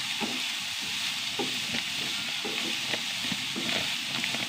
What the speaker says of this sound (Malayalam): കുറച്ച് വെളിച്ചെണ്ണ ഒഴിച്ച് കൊടുത്തു ഇനി നന്നായിട്ട് വഴറ്റട്ടെ